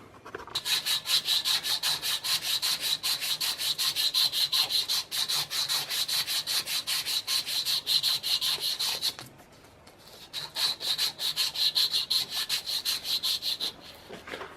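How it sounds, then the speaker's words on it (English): An Opinel knife handle being hand sanded with sandpaper: steady, rapid back-and-forth rasping strokes, close and loud, with a short pause about two-thirds of the way through before the rubbing resumes. "Probably gonna switch to hand sandpaper because the old the bench sand is a wee bit aggressive."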